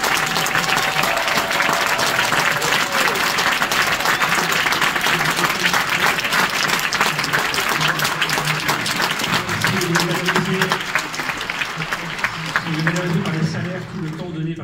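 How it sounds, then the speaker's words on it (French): A large audience at a film festival opening ceremony applauds loudly and steadily for the festival's volunteers, a dense continuous wall of clapping that thins slightly near the end. "Et je voudrais qu'on les applaudisse, mais extrêmement fort."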